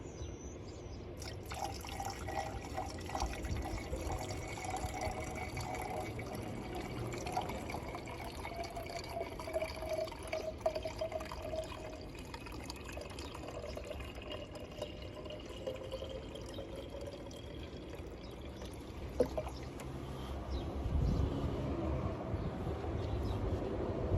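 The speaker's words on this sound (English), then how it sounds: "Pour some water in there." Water poured from a container into the reservoir of an old Mercedes gurgles and trickles steadily for a long stretch, a soft continuous liquid fill with occasional drips and clunks nearby.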